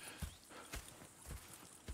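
Horses in the Red Dead Redemption 2 game clip-clop along at a walking pace, hooves striking in an uneven rhythm with soft thuds, fairly close and with no talk over them.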